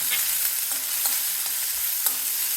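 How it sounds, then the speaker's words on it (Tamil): Crushed garlic fries in a pan for an okra kara kuzhambu, a dense, continuous sizzle close by, marked by light stirring taps at irregular moments, with no one speaking. "ஒரு பத்து பந்து பூண்டு தட்டி வச்சுருக்கேன் அதையும் போட்டுக்கலாம்"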